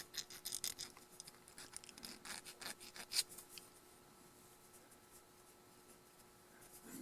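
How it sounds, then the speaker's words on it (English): A small modeling file scrapes thin flash from the edge of a plastic window on a haunted house scale model kit, giving quick, faint, close scratchy strokes that fade into quiet. "there's a little bit of flash on the bottom of each window, very thin, and it cleans up very quickly with one of my smaller modeling files."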